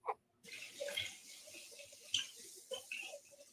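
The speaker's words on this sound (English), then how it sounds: "That's what the water sounds." Water running from a tap, an intermittent splashing hiss in short bursts that starts after a brief pause, quiet and close, with faint voices.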